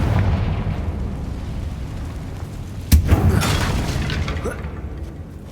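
Confringo blasting spell hitting a damaged bridge in Hogwarts Legacy: a sharp, loud blast a few seconds in, followed by crumbling debris, against steady low background rumble.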